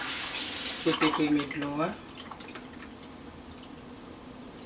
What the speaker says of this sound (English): now I'm about to wash my rice